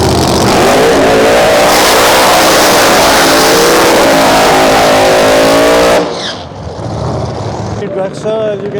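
A drag racing dragster's engine revs loud and close at a drag strip, a harsh, sustained roar that cuts off abruptly, leaving quieter crowd and track ambience.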